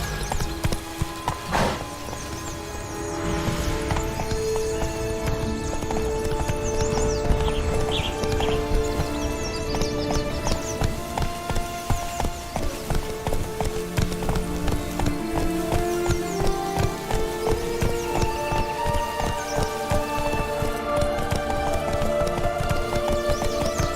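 Roach, the horse in The Witcher 3, gallops steadily with rhythmic hoofbeats under a continuous game music and ambience bed, with occasional brief snorts or whinnies over the long stretch.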